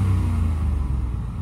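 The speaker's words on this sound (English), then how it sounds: "but the motor sounds great." A 2010 Ford F-150 XL pickup engine running steadily at idle, a close, loud, low rumble with no talk over it.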